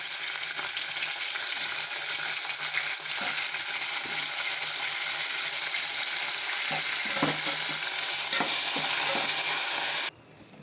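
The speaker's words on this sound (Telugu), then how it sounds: "ఇప్పుడు టమాటా ముక్కలు వేయాలి." Tomato pieces stir-fried in a tempering of dal, mustard seeds, chillies and curry leaves for beerakaya curry, a loud steady sizzle broken by spatula scrapes and taps, close up, ending abruptly.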